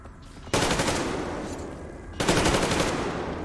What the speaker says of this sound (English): I couldn't figure out what Miller is shooting at right now.